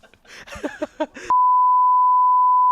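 A steady censor bleep tone, loud and continuous for about a second and a half, follows a short burst of speech.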